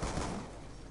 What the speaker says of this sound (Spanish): Escucho un disparo aquí atrás